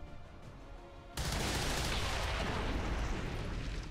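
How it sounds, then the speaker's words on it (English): A loud, sudden blast from exploding tanks in XCOM 2: War of the Chosen cuts in after a quiet stretch and rolls on as sustained, roaring explosive rumble with crackling debris until the end. "You weren't kidding when you said those tanks could explode"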